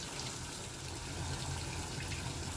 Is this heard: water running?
yes